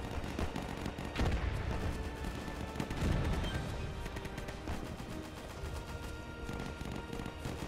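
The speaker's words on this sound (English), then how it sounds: "We're going to where the gunshots are." Gunfire and distant explosions rumble through a World War II battle in the Easy Red II video game, set at Stonne during the Battle of France, as dense, continuous booming and crackling shots with no talking.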